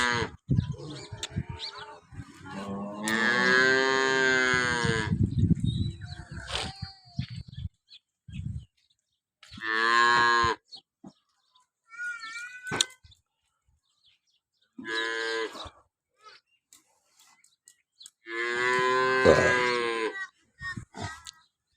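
Several long, loud cow moos come one after another with quiet gaps between them, close by.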